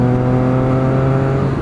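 A Triumph Street Triple 675 motorcycle engine holds a loud, steady high-revving whine with strong harmonic tones, close and continuous over a short burst with no talking.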